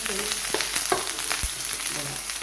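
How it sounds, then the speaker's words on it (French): Onions fry in a hot pan with a continuous close sizzle, a dense steady crackle broken by a few sharper spatters, with no talking over it. "Là tu peux mettre les oignons parce que je vois que ça chauffe."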